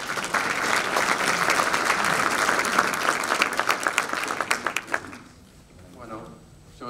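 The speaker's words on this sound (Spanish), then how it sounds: "Lo recibimos con un aplauso." An audience at a seminar in Ushuaia gives a full round of applause to welcome a speaker. The dense clapping thins into scattered individual claps, stops, and a voice speaks briefly over the quiet room.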